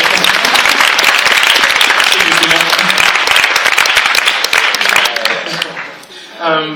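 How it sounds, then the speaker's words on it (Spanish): Loud, sustained applause from a large festival audience at an author talk, dense clapping that thins and fades toward the end. "Podéis aplaudir si queréis porque yo creo que ella se lo merece."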